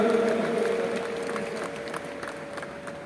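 Audience applause at the National Women's Parliament inauguration: a steady wash of clapping from a crowd, loud at first and gradually easing off, with a faint sustained tone beneath it.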